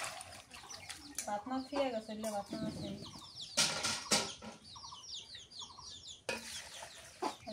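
Hens cluck and chatter close by in a busy yard, with people talking over them and a couple of sharp bursts of noise.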